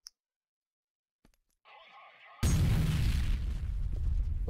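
In the shooter game F.E.A.R. Extraction Point, a thrown grenade clicks and rattles briefly, then a sudden loud explosion bursts out and rumbles for two seconds.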